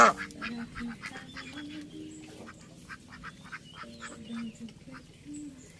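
Several ducks quack repeatedly in a steady, overlapping chatter, close by, with a low background hum beneath.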